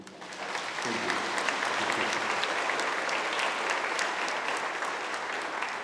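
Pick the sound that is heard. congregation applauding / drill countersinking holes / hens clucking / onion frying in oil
congregation applauding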